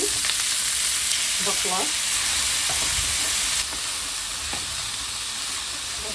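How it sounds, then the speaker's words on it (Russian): Onion and fava beans fry in plenty of hot olive oil, a steady loud sizzle with occasional stirring clatter and a few faint words of speech. "Нагреваем хорошее количество оливкового масла и обжариваем лук крупно порезанный"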